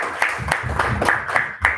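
A room full of people at a public speaking event applauds a nervous first-time speaker. The clapping is steady and fairly loud, with sharper bursts of claps near the start and the end.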